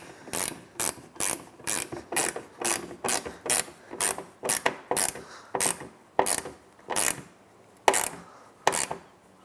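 A ratchet wrench tightens a bolt holding a black ground ring terminal while an LED bumper light bar is installed on a 2017 Ford F-250 Super Duty. Loud, close bursts of rapid clicking repeat in a steady rhythm, with no talking.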